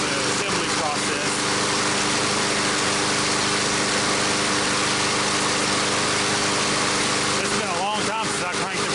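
A brand new MTD lawn mower with a Briggs and Stratton engine runs after a cold start, a loud, steady close-up engine drone with brief revving bursts near the start and end.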